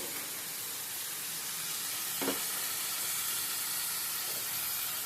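Chana dal tipped into a hot pan of oil, sizzling in a steady close hiss with a brief stirring scrape partway through.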